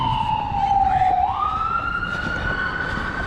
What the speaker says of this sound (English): We've got an ambulance coming here, so we'll just let that go by.